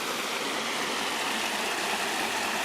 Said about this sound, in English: There's a little bit of falling water